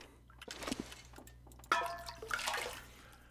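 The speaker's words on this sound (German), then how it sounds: "Jetzt kommt wieder Wasser zusammen." Water splashes and gurgles as it collects in the survival video game The Long Dark, arriving in short bursts with a trickling, pouring quality over a faint background hum.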